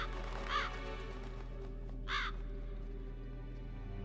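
Crows caw in the video game Metal Gear Solid: two distinct harsh caws about a second and a half apart, moderately loud over a steady low ambient drone, with no talking.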